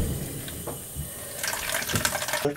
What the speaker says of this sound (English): Yeah, water coming out here.